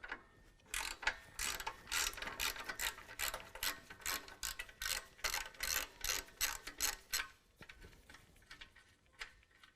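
A hand ratchet clicks in quick repeated bursts while removing two 5/8 exhaust bolts at the muffler-to-front-pipe connector on a 2019 Dodge Ram 1500, close and fairly quiet, with short pauses between swings.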